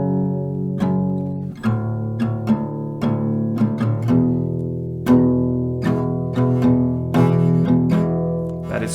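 An acoustic guitar is strummed through a chord progression moving between chords in the 4th, open and 2nd positions, each down and up stroke ringing out clearly in a steady rhythm, close and loud with no voices.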